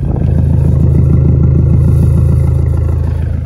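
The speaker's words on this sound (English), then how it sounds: "I am noticing that the little spring clamps that you use to connect the connections are rattling a little bit on the actual exhaust clamps." Subaru STI idling with a Tomei titanium exhaust, small spring clamps rattling against the exhaust clamps; a loud, steady low engine drone carries a fast, even metallic clatter throughout, with no talking.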